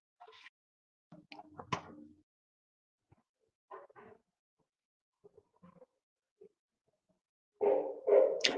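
A miniature Schnauzer gives a few short, sharp barks and yaps spaced apart by silence, with a louder, fuller burst of barking at the end, fairly close and clear.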